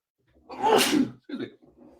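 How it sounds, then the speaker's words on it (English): A single sharp sneeze, close and loud, followed by a short breathy exhale and small trailing sounds. "I have to sneeze"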